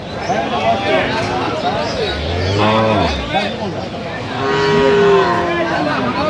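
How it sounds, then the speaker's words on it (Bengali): Cows and calves at a rural cattle market in Dinajpur, a deep moo swelling at mid-clip and further lowing nearby, heard over a busy hubbub of people talking and haggling throughout. "আমরা দেখছিলাম এখানে যে গাভী বাছুর গরুগুলো"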